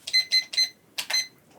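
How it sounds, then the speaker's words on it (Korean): A kitchen timer is set while braised oxtail cooks in a pressure cooker: five sharp, high electronic beeps, three in quick succession, a pause, then two more, close and clear. "이제 시간 한번 내가 타이머 좀 재볼게요."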